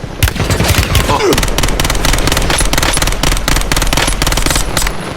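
Dense gunfire in Warzone, a near and loud run of rapid automatic shots that carries on without a break, with a brief exclamation from a player over it.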